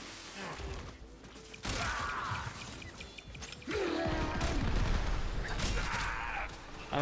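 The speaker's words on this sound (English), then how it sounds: "Because I feel like the explosions are just not hitting shit." Video game combat with bursts of gunfire and explosions from a Tesla tank, dense and continuous with mechanical clanking and creaks, moderately loud and without talk.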